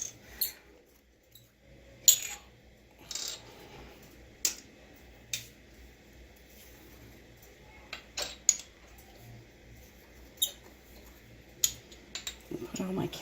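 Small pots of essential oils being opened one after another, sparse sharp clicks and light plastic taps over a quiet room, with short gaps between them.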